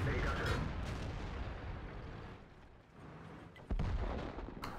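Heavy tank cannon blasts in a tank battle video game with a T-54 in play, loud booming shots over a dense rumble of game noise, with a sharp new blast near the end and a voice talking over it.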